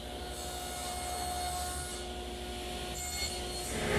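A table saw cuts the shoulders of a tenon for a Mission-style desk, a steady close blade whine with a grinding bite into wood, running continuously and swelling slightly at the end, with no talking.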